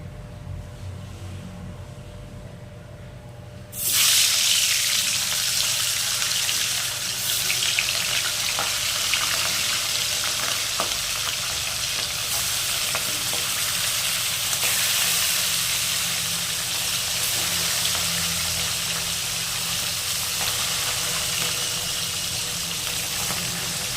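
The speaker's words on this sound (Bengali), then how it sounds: "এবার মাছগুলো আমরা খুব হালকা করে একটু এপিট ওপিট করে ভেজে নেব।" Hilsa fish pieces start frying lightly in oil after a quiet opening, bursting into a loud, even, broadband sizzle that holds steady to the end with no voices.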